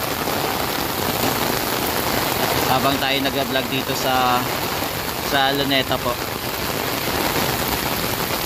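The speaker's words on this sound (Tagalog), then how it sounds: "naabutan na naman po tayo ng malakas na ulan" Steady heavy monsoon rain pours down with a constant hiss at Luneta (Rizal Park), while a person talks over it in bursts and a vehicle engine hums faintly.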